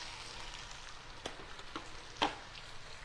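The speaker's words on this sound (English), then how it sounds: "they are sizzling a little bit" Salmon fillets sizzle gently in a pan, skin side up, giving a soft, faint crackling hiss with a few scattered pops and one sharper spit near the end.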